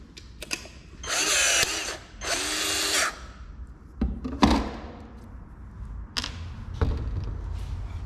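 Power rivet tool riveting roofing, two sustained whirring bursts of the motor followed by several sharp snapping clacks and metallic knocks, close and loud with quiet gaps between.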